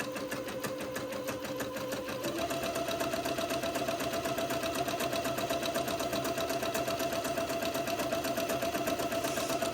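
A sewing machine stitches a tight satin zigzag hem on a child's jumpsuit, running steadily and slowly at close range in a dense, continuous mechanical whir with no speech.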